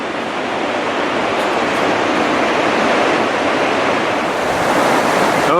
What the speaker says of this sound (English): Just thought I would record a little bit of this to let you see the Cattle River at Banning State Park.